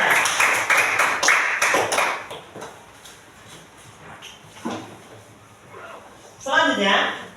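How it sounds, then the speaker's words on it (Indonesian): Classroom applause for a student group bursts out loudly at first as brisk, dense clapping, then thins into scattered claps and soft taps, with a short renewed flurry of clapping near the end. "Tepuk tangan untuk kelompok 1."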